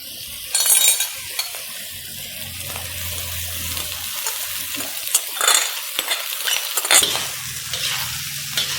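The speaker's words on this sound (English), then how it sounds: "Fry the rice properly, mix well." Prawn fried rice stir-fried in a pan, with a steady sizzle, scraping spatula strokes and occasional clinks of metal throughout, close and moderately loud, with no talking.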